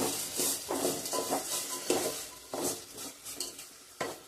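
Tomatoes fry in a pan for avarekalu uppittu, a steady sizzle under repeated scraping and stirring strokes of a spoon against the pan, close and fairly loud, with no talk.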